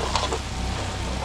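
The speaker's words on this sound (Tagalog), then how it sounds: "So totostayin lang natin yung bawang sibuyas natin." Garlic and onion toast in a pan for beef caldereta at a large catered event, a continuous loud sizzle with a low steady hum beneath and a sharp clink at the end.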